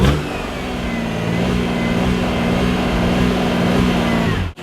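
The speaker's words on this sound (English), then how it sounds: "The most anemic launch control I've ever heard." A car engine holds a steady rev on launch control at a drag strip, a droning mid-pitched note that is loud, close and continuous. It cuts off sharply at the end.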